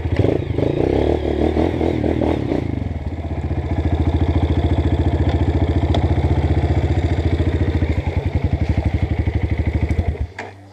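Motorcycle engine idling up close, a loud, steady low putter with rapid regular firing pulses after a brief rougher start, continuing until it cuts off near the end.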